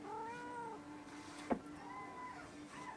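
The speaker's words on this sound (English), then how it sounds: "Meow." A house cat meows several times in a drawn-out, wavering voice close to the listener, with a brief sharp knock partway through and quiet room tone between calls.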